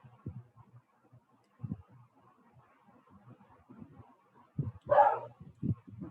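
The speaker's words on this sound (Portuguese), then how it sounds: "A cachorra está animada hoje, né?" A dog barks excitedly a few times, short yipping bursts, one louder higher yelp near the end, against a quiet room with faint low rumble.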